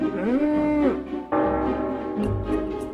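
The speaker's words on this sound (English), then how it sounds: "either the cow was mooing a lot" A cow lets out a long, loud, close moo that bends upward and then falls, followed by a second, rougher lowing call, with no other sounds around it.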